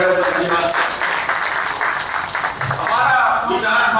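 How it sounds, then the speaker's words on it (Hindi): An audience at a formal tax department gathering claps to thank someone speaker, dense sustained applause filling the whole stretch with a voice over it. "एक बार ताली बजाकर मैडम का धन्यवाद"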